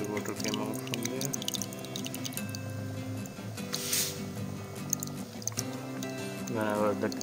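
Water running out of an alkaline water machine with a UV filter and pump, a steady liquid flow with splashy, filling tones, close and fairly loud under background noise.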